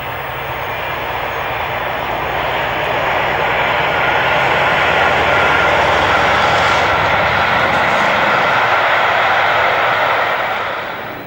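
A Peak class diesel locomotive hauls a Pathfinder charter train from Shrewsbury past the lineside in July 1999, making a loud, steady, broad roar that builds, holds for several seconds and then begins to fade.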